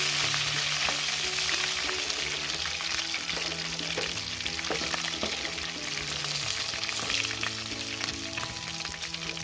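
Chicken pieces frying in hot oil for a home-style chicken curry, a steady dense sizzle with crackling pops running throughout, close and fairly loud, no voices.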